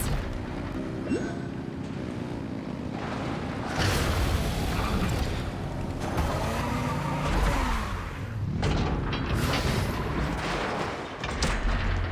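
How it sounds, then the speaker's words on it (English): Machine engines rev in the Genshin Impact video game, rising in loud, roaring broadband bursts that surge and fade several times with no talking. "Rev the engines!"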